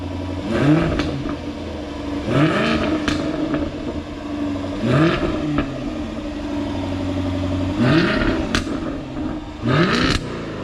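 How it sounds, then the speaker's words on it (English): A Jaguar F-Type R engine revving close by, with four or five sharp rises in pitch that each fall back to a rumbling idle, loud and alone. "You give us a rev."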